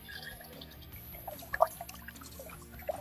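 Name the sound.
pouring water to wash basmati rice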